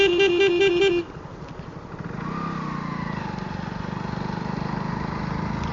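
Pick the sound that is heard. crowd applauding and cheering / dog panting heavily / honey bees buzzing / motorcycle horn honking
motorcycle horn honking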